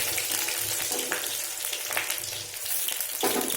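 Whole green chili and chopped garlic fry in a pan with a steady, close sizzle and crackle throughout, broken by a few soft stirring scrapes.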